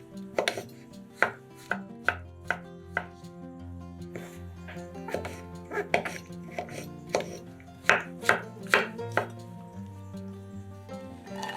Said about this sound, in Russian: Шампиньоны моем и нарезаем кубиками.